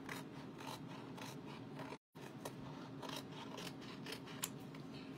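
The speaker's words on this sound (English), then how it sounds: "So I'm going to cut this along the cut lines." Scissors snip repeatedly through a craft stencil along its cut lines, a series of close, crisp clicking cuts with a brief silent break partway through.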